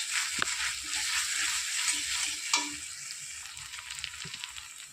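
Fennel and cashew paste frying in a pan with ginger, onion, garlic and green chilli for a yogurt catla fish dish, a steady sizzle with intermittent stirring scrapes and taps, no talking.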